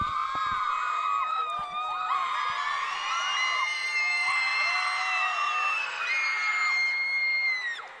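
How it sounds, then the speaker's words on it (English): Spectators at a women's college basketball game cheer, whoop and yell during a free throw, a sustained roar of high voices and screams carrying at a distance without a break. "Shout out the crowd noise impacting the free throw shot from De'Ara Page"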